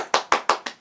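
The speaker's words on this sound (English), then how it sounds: "Big round of applause." Four quick, sharp handclaps ring out close by in an even rhythm, each one crisp and bright, with nothing else heard.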